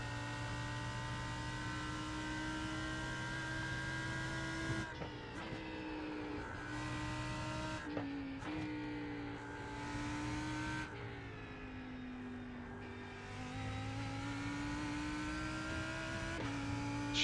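A high-pitched Lamborghini GT3 race car engine in iRacing screams steadily, its whine rising and dipping with gear shifts and brief throttle lifts, loud and continuous with no talking.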